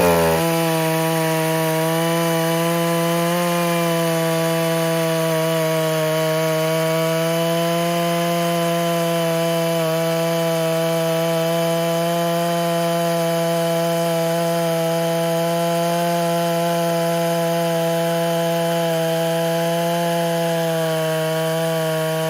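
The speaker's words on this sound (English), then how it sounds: "we're going to go ahead and make our first cut." A freshly sharpened chainsaw chews through wood in a timed cut, holding a loud, close, steady high-revving drone from start to finish, with no voices.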